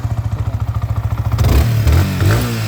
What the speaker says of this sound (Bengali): আপনি গাড়ির ইঞ্জিনের সাউন্ডটা দেখেন, ইন্দো ভার্সনের বাইকটা কিন্তু ইঞ্জিনের সাউন্ড হয় কড়কড়া